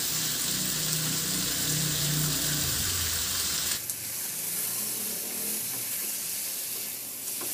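Chicken legs, about 500 grams in serving cuts seasoned with salt and pepper, sizzle steadily in a pan, a loud continuous hiss that drops and thins partway through as if stirred or moved.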